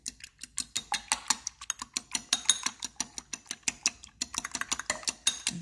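Two egg whites are beaten with a whisk in a bowl, giving rapid, rhythmic clicking strokes up close, steady throughout apart from a short pause midway, with no speech.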